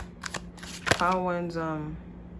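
Tarot cards being shuffled close by in quick riffling flicks, while a voice talks over the shuffle in a gentle tone.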